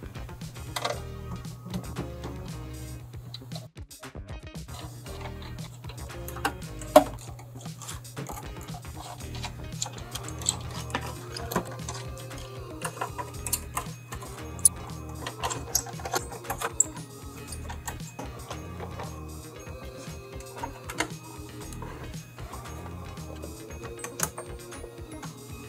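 Phillips and Torx screws being backed out of the metal plate on a PS4 Pro during a deep clean: faint, scattered mechanical clicks and ticks over a steady low hum, with no talking.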